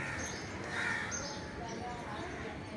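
Crows caw faintly from a large neem tree full of nests. The calls are brief and distant, set against a steady outdoor hiss.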